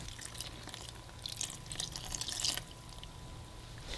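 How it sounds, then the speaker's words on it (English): Pandan water trickles and splashes softly into a bowl of dough mixture in brief bursts, quiet and close, with no one talking. "And then pour all of the pandan water straight in."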